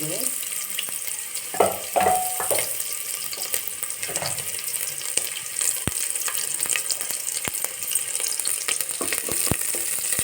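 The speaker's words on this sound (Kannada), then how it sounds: "ಈಗ ಸಾಸಿವೆ ಸಿಡಿತಾ ಇದೆ" Mustard seeds spluttering in hot oil as tempering for a field bean (avarekalu) sambar: busy frying crackle with scattered sharp pops and a few brief stirring clatters, steady and close, no talk.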